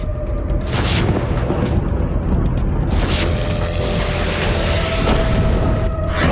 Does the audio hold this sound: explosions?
yes